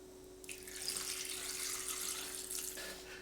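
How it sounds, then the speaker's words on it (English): Marinade for buttery balsamic party wings is poured into a bag of chicken wings, giving a steady liquid splash and trickle for about three seconds. "Got to pour the marinade in"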